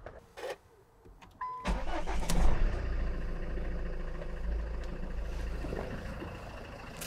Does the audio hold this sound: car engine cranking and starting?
yes